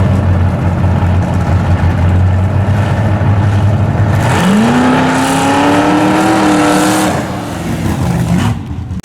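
Street-driven car on racing slicks launches hard on a short straightaway, engine roaring up through a long rising rev that climbs steadily for several seconds before easing off, loud and close with no talk.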